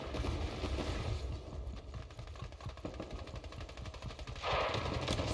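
Rapid automatic gunfire from teams fighting in Fortnite, a rattling stream of distant shots with short pauses, followed by a burst of louder noise near the end.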